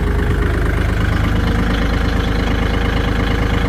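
A 2021 Kubota L3218SP tractor's diesel engine idling close up, a steady low rhythmic chugging knock that holds constant throughout with no voices.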